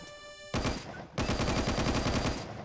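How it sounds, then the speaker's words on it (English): Automatic sniper rifle in the video game Phantom Forces fires two rapid bursts of loud, closely spaced shots, the second longer, separated by a brief pause. "So yeah, this is the automatic sniper."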